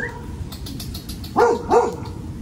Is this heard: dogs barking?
yes